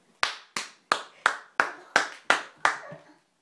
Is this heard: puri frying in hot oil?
no